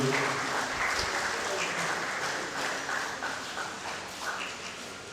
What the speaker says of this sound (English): Please, a round of applause as I welcome my elder brother, Chief ETIABA Ijelu.